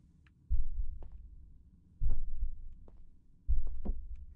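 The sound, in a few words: heartbeat sound in a cozy horror boba shop video game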